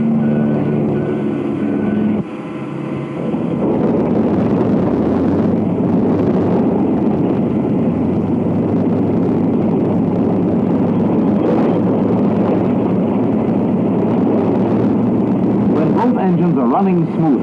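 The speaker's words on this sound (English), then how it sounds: "You may have to use the primer from time to time until the engine smooths out." A 1943 Martin PBM Mariner flying boat's aircraft engine starts and then runs, a loud steady roaring drone that continues throughout after a brief change near the start.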